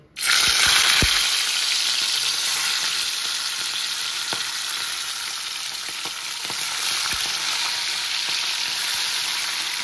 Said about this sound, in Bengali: অল্প অল্প মাছ দিয়ে ভেজে নেব, সব মাছ কিন্তু একবারে দেব না।